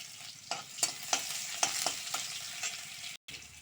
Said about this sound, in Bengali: তেলটা গরম হয়ে গেছে এবার আমার পেঁয়াজ কিছুটা দিয়ে দিয়েছি